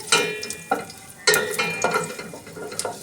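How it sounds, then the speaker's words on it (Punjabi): Whole spices including cardamom, cloves and cumin lightly roasting in a pan for shahi paneer, with several sharp sizzling bursts as they hit the heat and a close scraping stir between them. "ਹੁਣ ਇਹਨੂੰ ਆਪਾਂ ਹਲਕਾ ਜਿਹਾ ਭੁੰਨ ਲਵਾਂਗੇ"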